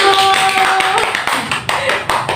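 A class of schoolchildren clapping their hands together in a classroom, lively and close, with a voice briefly audible at the start before the claps continue in a loose rhythm.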